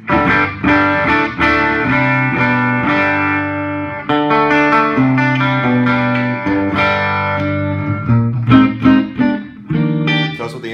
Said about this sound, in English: That's what the amp sounds like by itself.